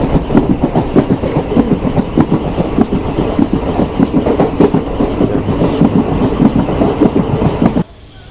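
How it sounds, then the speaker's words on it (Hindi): Train wheels clatter loudly and rhythmically over the tracks on the Pamban railway line to Rameswaram. The rumbling clickety-clack runs steadily and close by, then cuts off abruptly near the end, with no one speaking. "सही देसी आवाज आ रही ट्रैक्स की।"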